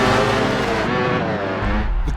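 Racing car engines from the F1 2013 video game, a loud high-revving roar of Formula One cars sweeping past close by, steady and continuous with a shifting pitch.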